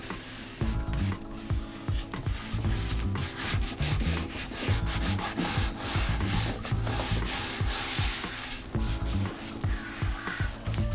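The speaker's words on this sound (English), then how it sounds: "I shall just run on that corner edge there, just with a sanding block" A sanding block rubs back and forth along the corner edge of a decoupage piece finished with tissue, making steady, close, scratchy strokes with no pause.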